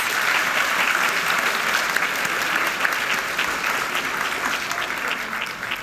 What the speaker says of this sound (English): Can we please give one more round of applause for the top 20 students?